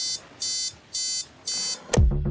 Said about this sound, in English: instead of waking to the jarring sound of an alarm clock